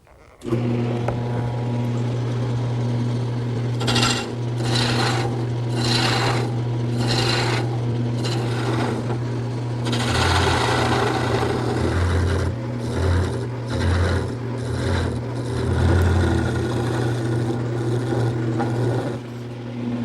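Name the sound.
wood turning on a lathe with gouges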